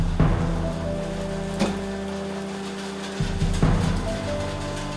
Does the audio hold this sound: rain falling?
yes